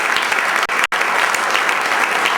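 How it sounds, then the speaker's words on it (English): A conference room audience gives a loud, sustained round of applause for the hotel staff, continuous clapping with no talking, briefly dipping for a split second before carrying on. "but let's just give them a round of applause as well."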